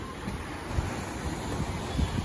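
Wind blowing across a beach pier at Wrightsville Beach, North Carolina, a steady low rumbling buffet against the microphone with faint surf beneath, no voices.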